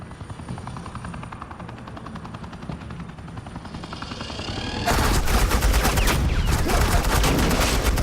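Suppressing fire in Batman: The Enemy Within, a steady helicopter-like drone followed by a sudden loud, dense wall of continuous automatic gunfire that holds to the end.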